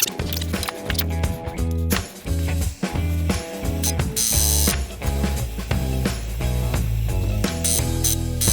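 Impact wrench hammering at a rusted part on a 1995 Ford F150 pickup, a loud, close, rapid rattling clatter in repeated bursts with brief gaps between them.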